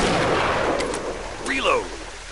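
A single hunting rifle shot booms in the Deer Drive game, a loud broad blast that rolls off into a fading echo, followed by a brief squealing animal call.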